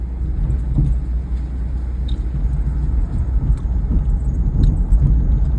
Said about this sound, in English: What's rattling inside here, believe it or not, is a ball bearing from the rear end spider gear that I rebuilt.